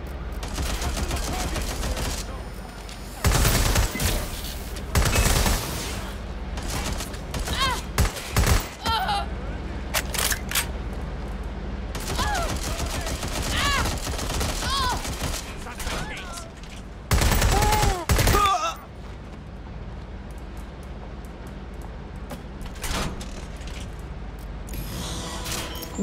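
Gunfire in the video game Watch Dogs Legion: loud bursts of automatic fire at about 3, 5 and 17 seconds, with fainter shots and game sounds between them, under speech.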